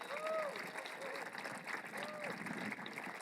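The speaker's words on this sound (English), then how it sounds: "Let's have a round of applause." An audience applauds at an outdoor B-29 dedication ceremony. Steady, moderately distant clapping fills the whole stretch, mixed with crowd murmur and a few voices.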